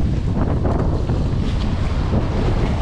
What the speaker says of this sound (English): Oh boy, it's choppy out here.